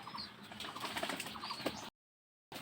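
Bursts of wing flapping and splashy fluttering from pigeons, close and busy, with a brief cut to silence near the end.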